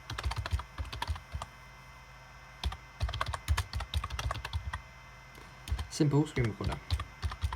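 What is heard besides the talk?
typing a terminal command on a computer keyboard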